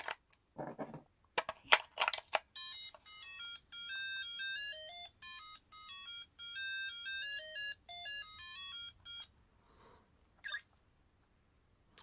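A Brick Game Tetris handheld, model HC-7083, powered by two AA batteries, plays its power-up tune: clicks, then a run of bright, close electronic beeps in a stepping melody lasting several seconds, followed by a few short blips.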